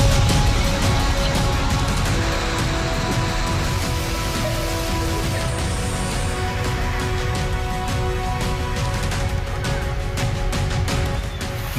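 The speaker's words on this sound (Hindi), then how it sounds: "दोनों सूबों में जमकर बारिश हो रही है।" Heavy rain pours steadily during flooding in South India, a dense, loud, continuous hiss of water on surfaces with no letup and no voices.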